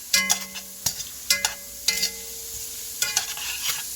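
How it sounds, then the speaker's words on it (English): Chopped aromatics sweat and sizzle in a pot for chicken and vegetable pot pie, a close, lively crackle broken by repeated sharp scrapes and clinks of a utensil stirring against the pot. "Now we're going to sweat out our aromatics before we add anything else."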